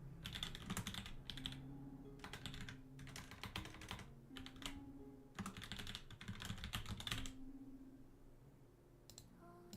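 Rapid bursts of typing on a computer keyboard, close and fairly quiet, coming in clustered runs of clicky keystrokes separated by short pauses, with a low background hum underneath.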